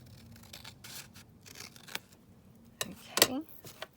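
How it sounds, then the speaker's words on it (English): Scissors cut along the edge of paper, giving a few quiet snips and a louder, sharper crisp slice near the end, close and otherwise fairly quiet. "just cut this edge here"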